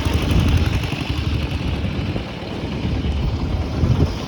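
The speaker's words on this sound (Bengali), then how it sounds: "যে ছোট ছোট ট্রলারে পর্যটকরা যাচ্ছে।" A small tourist trawler boat moves along a river with clear water in hilly border country. Its engine rumbles loud and close, and wind buffets the microphone.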